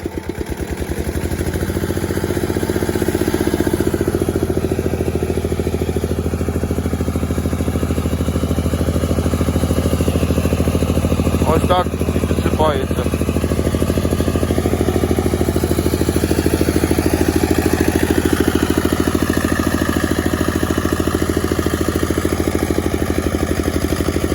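Tractor engine rumbling steadily at close range while hilling potato rows, a continuous low mechanical drone with some clatter and a brief throttle change midway; no talking.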